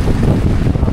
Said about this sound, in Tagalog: Lakas kasi ng hangin.